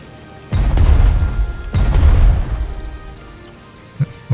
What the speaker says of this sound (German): der Regen versaut hier jetzt hier alles